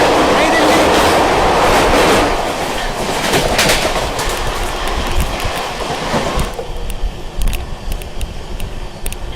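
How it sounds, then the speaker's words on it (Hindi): An Amrit Bharat Express, the 22361 Rajendra Nagar Patna–New Delhi service, rushes past at speed with a loud, dense roar of wheels and coaches. Rhythmic clatter persists as the train continues by, easing somewhat toward the end. "यार रफ्तार में निकली है भाई अमृत भारत एक्सप्रेस"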